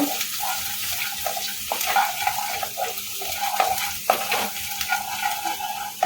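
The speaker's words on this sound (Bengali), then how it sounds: "এবার এর মধ্যে দিয়ে দেবো কুচিয়ে রাখা রসুন আর আদাটা আদা রসুনটা একটু হালকা করে মেরে নেব" Chopped garlic and ginger fry in a pan for pasta, a soft continuous sizzle broken by repeated scraping and stirring strokes of a utensil, close and moderately loud, with no talk.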